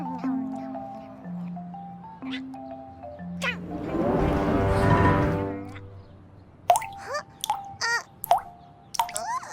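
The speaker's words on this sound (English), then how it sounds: "It rains when drops of water fall from the clouds in the sky." Water drops fall as rain in a few separate drips and plops, with a swelling wash of sound in the middle, set among tonal notes and a voice speaking.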